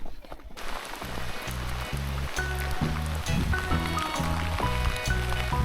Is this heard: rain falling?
yes